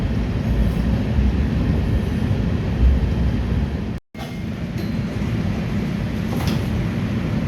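An LA Metro E-Line light rail train runs steadily, heard from inside the car as a loud, constant low rumble and roar. It drops out briefly about halfway through, then carries on with faint squeals, and nobody talks.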